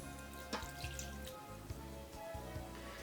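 Kombucha starter liquid is poured into a jar, giving soft trickling and dripping sounds over a faint low hum, quiet and close with no talk.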